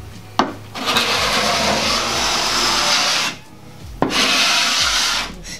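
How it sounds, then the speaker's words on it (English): A scraper rasps over painted wood to strip paint for a distressed finish, in two long, loud, steady strokes, each a few seconds, with a brief pause between them. "I'll get my scraping on."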